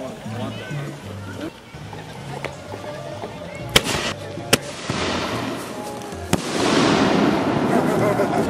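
Fourth of July fireworks bursting outdoors: a few sharp cracking bangs, then a dense crackling, sizzling roar of shells, with people talking and exclaiming throughout.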